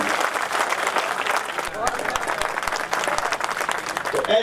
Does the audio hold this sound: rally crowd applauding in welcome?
yes